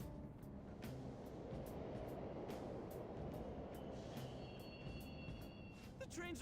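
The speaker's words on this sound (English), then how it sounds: "The trains are totally running. Of course they are. We're in the subway, you know." Subway train in the video game Persona 5 Royal rumbles steadily, a dense low roar of wheels on track that continues throughout with faint clicks and a brief higher whine near the end.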